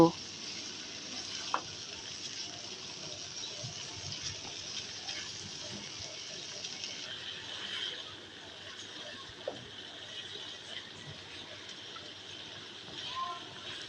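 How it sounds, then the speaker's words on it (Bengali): Chicken pieces frying with spices in a pan while being stirred, a steady sizzle running throughout with occasional scraping clicks, close and moderately loud, for a chicken and potato curry. "এবার মশলার সাথে নাড়াচাড়া দিয়ে ভালোভাবে মিশিয়ে নেব মাংসগুলোকে মশলার সাথে এবার ভালোভাবে কষিয়ে নেব"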